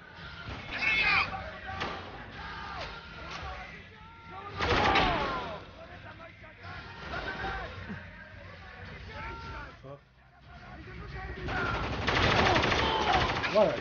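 Gunfire in the video game Spec Ops: The Line on PS3, with bursts of automatic shots and heavier blasts recurring through a noisy firefight, mixed with voices talking and shouting.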